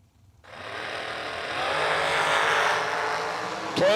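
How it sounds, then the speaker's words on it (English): Drag racing cars roar off the line in a loud, sustained engine blast that builds and holds, ending with a sharp rising whine near the close. "got a good old-fashioned drag race"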